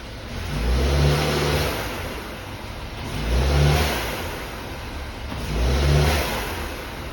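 Subaru Ascent with a 2.4L turbo engine and blow-off valve adapter revving outdoors, three distinct rising-and-falling rev bursts over a steady idle, with a whooshing release after each.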